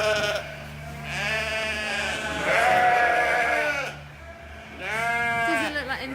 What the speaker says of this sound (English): there's lots of our Shetland sheep in here